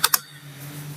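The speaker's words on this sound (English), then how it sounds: "See what I can just pull up by typing that in." Two quick keystrokes on a computer keyboard, close and sharp, followed by a quiet room with a faint steady hum.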